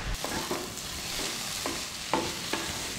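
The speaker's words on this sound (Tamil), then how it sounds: "அங்கே இப்படியே கொஞ்ச நேரம் நம்ம ஹையில் வச்சு வதக்கிட்டுருப்போம்." A vegetable fry with chili powder is sautéed over high heat, sizzling steadily while a spoon scrapes and stirs through it in several distinct strokes, close and fairly loud with no talking.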